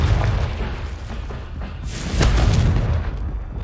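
Booming fiery explosion from the Confringo spell in the Hogwarts Legacy video game, a loud rumbling blast with crackling debris over dense low roaring background.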